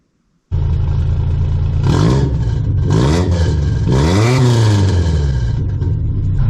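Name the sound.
mini truck engine revving through single chamber Flowmaster muffler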